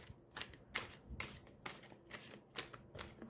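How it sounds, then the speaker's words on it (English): A deck of tarot cards is shuffled overhand in a quiet room, giving several soft, rhythmic riffling bursts about every half second, close but faint, with no talk. "Now, I am not the best overhand shuffler, and you just saw that nothing flew out of my hands."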